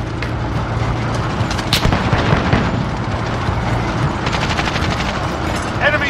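M4A1 rifle fire in Call of Duty: Modern Warfare, rapid automatic bursts inside a dense, constant din of battle with rumbling blasts and a voice speaking over the fighting.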